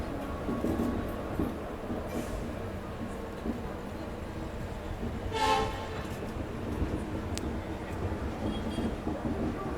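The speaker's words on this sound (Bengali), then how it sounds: "এই মুহূর্তে আমার ট্রেন ছেড়ে বেরোচ্ছে খড়গপুর জংশন রেলওয়ে স্টেশন" The Puri Jagannath Express pulls out of Kharagpur Junction at night, with a continuous heavy rumble and clatter of the carriages heard from on board and a short distant horn blast partway through.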